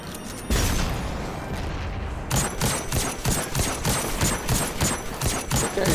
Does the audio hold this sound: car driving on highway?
no